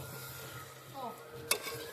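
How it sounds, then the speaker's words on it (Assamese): Marinated mutton frying in oil in a pan, a quiet steady sizzle with a faint stir and a single sharp clink of a utensil near the end. "একদম ফ্ৰাই কৰি ল'ম ভালকৈ"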